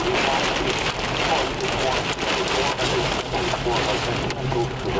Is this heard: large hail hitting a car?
yes